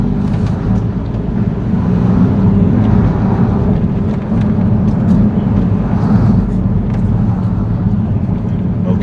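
A car driving slowly in reverse along a road, its engine giving a steady, loud low rumble with continuous road and wind noise throughout and no pauses.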